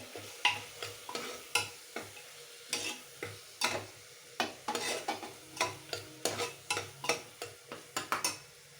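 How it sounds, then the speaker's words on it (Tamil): Ginger garlic paste and a sliced tomato sautéing in a pan for tomato rice, with a steady run of close, sharp spoon scrapes and clinks against the metal over a soft sizzle, no voices. "இஞ்சி பூண்டு பேஸ்ட்டு பச்சை வாசனை போகிற அளவு வதக்கிட்டு அதுக்கப்புறம் ஒரே ஒரு தக்காளி அரிஞ்சு நீல வாக்கில் போடணும்."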